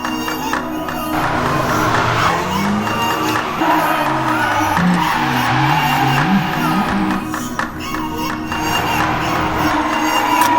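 A Nissan S-body with an SR20 engine laps on fresh tires, its engine note rising and falling through shifts and slides at mid distance, beneath a steady crowd murmur with scattered cheers.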